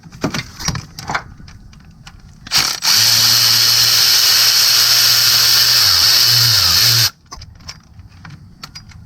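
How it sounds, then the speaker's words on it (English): Power tool, likely an impact driver, backs out 10mm bolts from the timing cover of a 2014 GMC Acadia 3.6L: a loud, steady whine running about four seconds, dipping slightly in pitch near its end, framed by faint clinks before and after. "we're going to remove those 10mm bolts"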